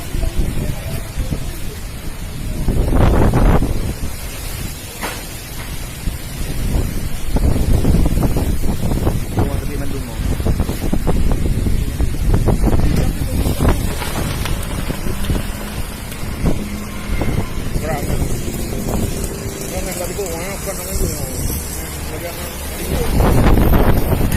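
Strong, gusty wind battering an outdoor microphone in Aceh, a continuous loud rumble with surging blasts, especially near the start and end, and faint voices talking underneath.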